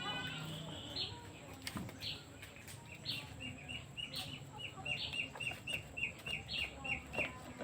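Native deshi chickens cluck faintly in a yard, with a run of short, repeated high chirps and clucks that grow busier toward the end over a quiet, breezy background.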